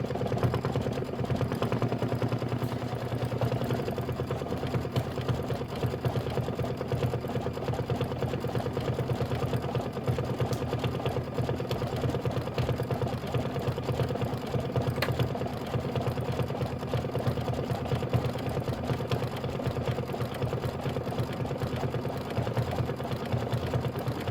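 An embroidery machine stitches camel legs on a quilted pillow block, running in a continuous fast mechanical whir and rattle at close range for the whole stretch, with no voices.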